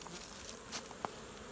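Quiet buzzing of honey bees flying close by at a hive entrance in a bee yard during goldenrod bloom, with a few brief louder passes and soft taps over a faint background hum.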